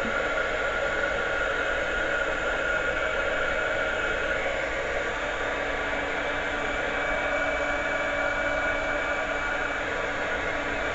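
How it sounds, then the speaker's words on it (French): A heat gun blows hot air to melt embossing powder, a steady loud broadband rushing hiss that holds unbroken for the whole stretch with no talking over it. "nous allons venir utiliser notre pistolet à air chaud"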